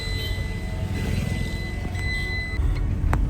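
A car drives along on a cold, rainy day, giving a steady low engine and road rumble inside the cabin, with a few faint clicks and tones.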